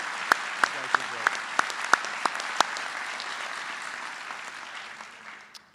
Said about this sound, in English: How about another round of applause for our three outstanding speakers?